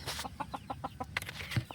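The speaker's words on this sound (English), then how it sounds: "So we got the big chickens on this side" Several chickens cluck in short repeated bursts, with a sharper squawk near the end, close by against a low background hum.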